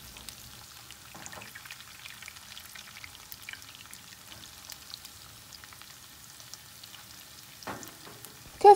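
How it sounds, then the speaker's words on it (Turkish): Köfte meatballs fry in a pan, shaken rather than stirred. The sizzle is low and steady, with soft crackles and a few louder pops, and there is no talk. "Köfteleri çok fazla kurutmadan kızartalım."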